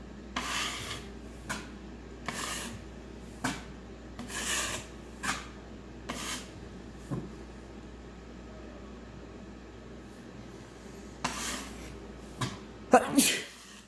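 A sharp sneeze bursts out near the end, during quiet room noise and intermittent rubbing or sanding scrapes while drywall is being smoothed.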